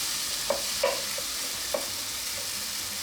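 Onions and tomatoes sauté in a pan for a Filipino-style shrimp curry, a soft steady sizzle with a few light scrapes and taps of a utensil stirring.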